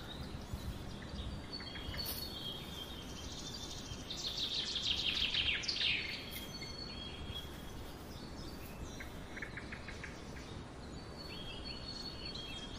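Wild birds chirp in an autumn garden, a faint scattering of calls joined midway by a brighter burst of rapid twittering nearby, over a steady outdoor hiss with no talk.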